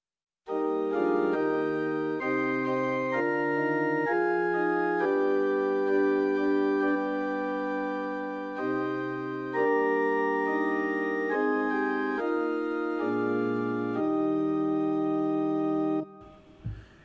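A pipe organ plays a slow, sustained hymn tune in full chords, steady and resonant, ending with a brief release and soft thump.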